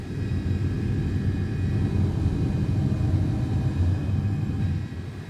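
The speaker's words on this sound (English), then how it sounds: "Flaps coming in." Steady, loud low engine rumble of an MD-11 airliner climbing out after takeoff as its flaps retract in X-Plane 12, with continuous broadband drone and faint tonal whine throughout.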